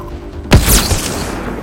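A single loud, close gunshot fired as a headshot in the video game Mass Effect Andromeda, a sharp boom followed by a brief ringing tail.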